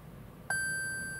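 Short electronic beep from a Toyota RAV4 as the electric parking brake's automatic mode is switched on, a single clear tone that sounds once and rings steadily to the end over a faint hum.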